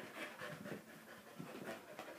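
A dog named Bumble pants steadily through a training session, quick rhythmic breaths close by with no talk over them.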